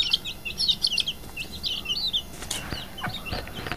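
A young hen kept in a pigeon coop gives soft, quick clucks and high peeping calls in scattered bursts, faint and fairly close, with a few light knocks near the end.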